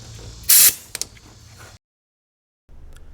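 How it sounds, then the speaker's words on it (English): Compressed shop air bursts briefly and loudly into an engine cylinder through the spark plug hole during a valve stem seal job, followed by a couple of metallic clicks and then a dead silence. "Put shop air back to the cylinder here."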